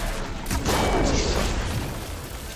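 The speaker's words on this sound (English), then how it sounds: "he's gonna die from the plasma explosion." A plasma explosion in the video game Horizon Forbidden West, a loud, dense burst that swells and holds as a roaring, crackling wash for about two seconds before fading slightly.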